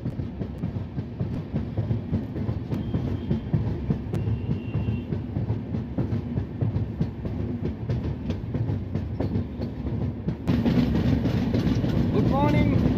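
An Uttarbanga Express 13147 train with LHB coaches rolls into Aluabari, its steady loud rumble and wheel clatter continuous throughout and growing brighter and louder near the end.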